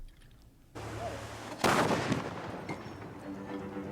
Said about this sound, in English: This is what a cannon's like.